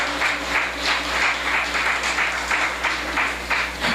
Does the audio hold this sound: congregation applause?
yes